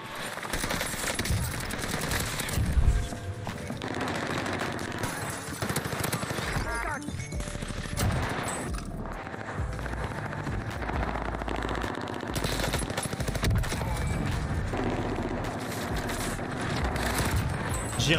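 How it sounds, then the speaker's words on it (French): MP40 submachine gun fire in a video game: sustained rapid automatic bursts rattling almost continuously and loud, with short breaks, crashes and impacts mixed in. "J'ai rarement vu autant de balles tirées pour si peu."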